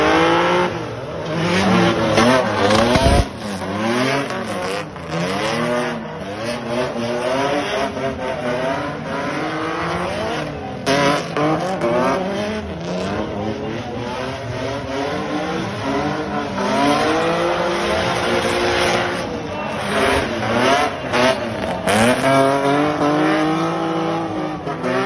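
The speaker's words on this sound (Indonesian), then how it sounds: "Gua mencoba untuk drifting sampai finish walaupun kondisinya ditabrak-tabrak." A drift race car in the final round of IDS 2024 slides toward the finish after being bumped, its engine revving hard under a long, continuous tire squeal that rises and falls for the whole run.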